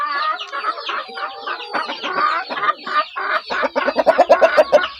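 A rooster and a hen cluck close by, a dense run of chattering calls that ends in a quicker series of rhythmic clucks.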